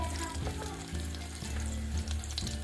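Garlic fries in a pan with a steady close sizzle and crackle. A low hum runs underneath, with small bursts of spattering and no voices.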